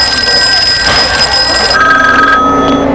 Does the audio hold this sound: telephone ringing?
yes